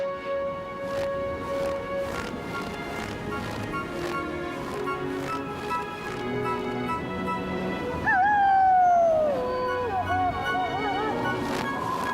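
A wolf howls in an animated Spanish-language children's program, a wavering, falling cry rising out near the end of a busy stretch of voices and background music.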